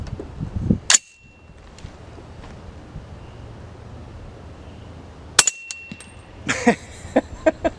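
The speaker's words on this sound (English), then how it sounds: "You cannot hear anything else except the action of the rifle." Two sharp, fairly quiet cracks of subsonic rounds from a rifle fitted with a Jaguar CAX762 X Series suppressor, several seconds apart, each followed by metallic clicks and clinks of the rifle action, with a faint hum between.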